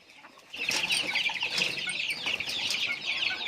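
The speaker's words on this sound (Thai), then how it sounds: "เขาก็จะกุ๊กกักเรียกตัวเมียฮะให้มากินกับเขานะครับผม" A rooster clucks on a small farm to call hens to food, a close run of rapid, bright clucks that starts abruptly and continues steadily for about three seconds with no talking.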